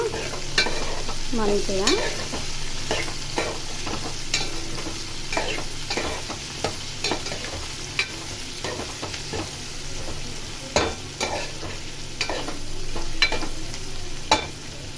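Onions fry in oil in a pan for a mixed vegetable curry, a steady close sizzle broken by repeated clanks and scrapes of a stirring spoon throughout.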